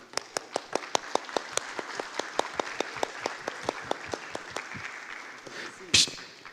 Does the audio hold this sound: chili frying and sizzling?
no